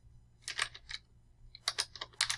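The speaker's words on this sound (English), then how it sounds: "Now keep typing." Computer keyboard typing: two close bursts of rapid clicking keystrokes separated by a brief pause, crisp and fairly quiet over a low background hum.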